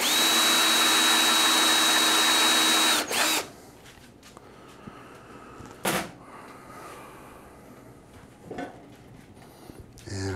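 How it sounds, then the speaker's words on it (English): Drilling into a locked toy vending machine: a loud, close power drill whines steadily for about three seconds, then stops, followed by a few scattered thumps and light handling knocks in a quiet room. "Let's drill a little further."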